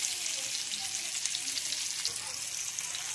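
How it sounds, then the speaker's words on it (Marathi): Fish fries in hot oil in a pan with a steady, close hiss of sizzling and soft crackles throughout, without any voices. "तर छान असा एक साइड आपल्याला परतून घ्यायचा आहे"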